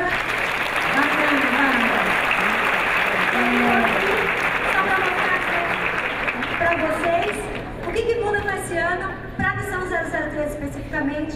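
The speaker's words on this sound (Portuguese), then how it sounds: "Palmas para a Bárbara." Steady audience applause fills a convention hall at a student convention in São Paulo, with a voice talking over the clapping as it thins and dies away toward the end.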